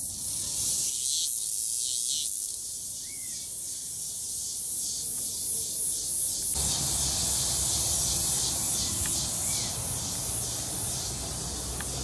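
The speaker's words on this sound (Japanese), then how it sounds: "セミもいます。" Cicadas in a park in Asunción, Paraguay, buzzing as a steady, loud, high drone that pulses throughout, swelling fuller in the second half, with no voices.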